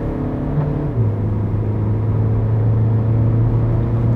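Steady engine drone from a 2016 Renault Talisman 1.6 dCi diesel in Sport mode, heard from inside the cabin, with a low hum that shifts pitch slightly as it accelerates, loud and continuous with no talking.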